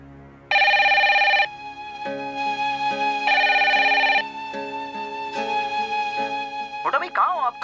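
A telephone rings in repeated electronic bursts, loud and close, with a tonal musical bed underneath and a brief voice near the end.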